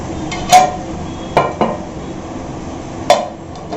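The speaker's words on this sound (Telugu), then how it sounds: "నేను లిడ్ పెట్టేద్దాం." A metal lid clinks down onto a cooking pan while making egg curry, a few sharp, close clanks spaced over a few seconds against a faint background hiss.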